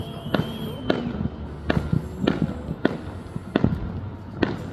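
New Year's fireworks burst in a series of sharp, separate bangs a second or so apart, some loud and some fainter, with faint crackling between them.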